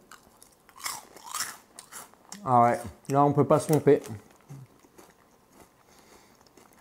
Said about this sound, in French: On a la sensation d'avoir le goût de la chips qui croque.